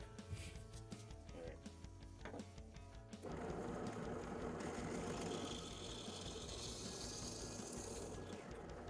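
A steady mechanical whirring starts about a third of the way in and runs at an even level to the end. It is close and fairly loud, and there is no talk.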